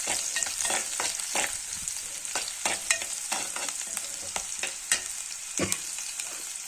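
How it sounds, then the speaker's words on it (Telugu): Food frying in hot oil in a home kitchen while being stirred until browned, with a steady close sizzle and repeated scraping strokes of a spoon against the pan, and no talking. "ఈ బ్రౌన్ కలర్ వచ్చేదాకా గోలించుకోవాలి."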